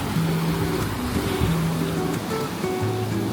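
Big ocean waves surge and crash against rocks on a Philippine shore, a constant loud roar of surf and water. A low motor-like hum runs underneath, with no talking.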